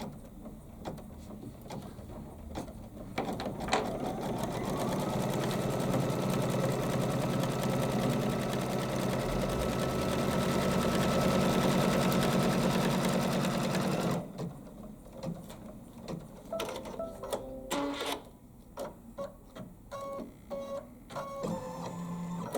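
A Kimberbell embroidery machine runs steadily, close and loud, stitching quilting lines for some ten seconds before stopping, followed by scattered light handling clicks and thumps.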